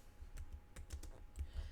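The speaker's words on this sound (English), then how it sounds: "It really picks up the typing too." Keys clack in a quick, uneven patter on a computer keyboard, a string of light taps recorded close up at low volume with no speech.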